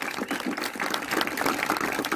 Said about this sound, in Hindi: तो इसके लिए मैं चाहूंगा जोरदार तालियां।